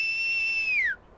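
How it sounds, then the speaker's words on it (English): A person on a farmyard whistles to call a dog: one clear, sustained whistle that holds steady and then slides downward before stopping, heard alone against quiet background. "Roy whistled and called."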